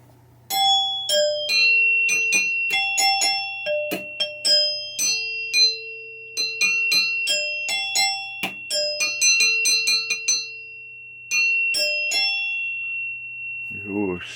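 A 1974 Williams Star Action pinball chime box is struck again and again, giving clear ringing gongs and bell tones. Some strikes come in quick bursts and some tones are left to ring out, near and loud.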